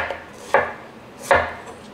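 A knife chops through zucchini on a cutting board, giving two sharp, separate strikes about three-quarters of a second apart in a quiet kitchen.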